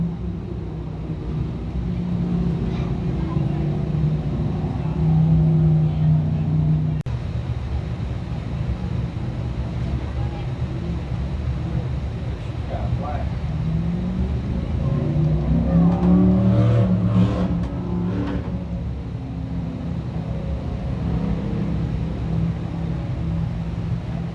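DIRTcar Sportsman race cars roar around the Can-Am Speedway dirt track during a heat race, a continuous engine rumble that swells as cars rev and pass, loudest around the middle and late stretch.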